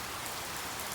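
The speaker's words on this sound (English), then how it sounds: "the rain taps a steady rhythm against the window" Rain tapping against a window, a dense, even patter of drops with a steady hiss throughout, heard alone without any voices.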